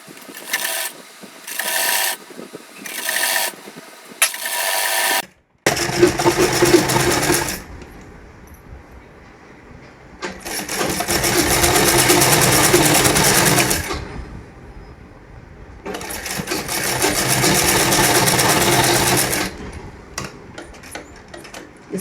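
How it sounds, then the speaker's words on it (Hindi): A sewing machine stitches a bias strip onto plain fabric, rattling in several short bursts and then two long continuous runs, loud and close with brief pauses between. "एक दूसरे को रखते हुए एक दूसरे के ऊपर यहाँ से सिलाई लगा देंगे"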